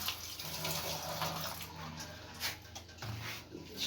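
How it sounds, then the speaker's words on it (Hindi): Running tap water splashes steadily over tomatoes, green chillies and garlic being rinsed in a kitchen sink, a continuous close wash with small bumps and shifts in flow. "ये टमाटर, सब्ज़ मिर्चें और लहसुन, इसको अच्छी तरह धोऊंगी।"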